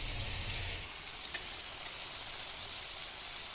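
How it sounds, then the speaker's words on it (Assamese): Onions and chicken meat frying in a pan, a steady, quiet sizzle with faint crackles and a low rumble at the start, heard alone. "এই গোটেইখিনি পিঁয়াজ এতিয়া মই মাংসত দি ল'ম আৰু তাৰপিছত ফ্ৰাই কৰিম"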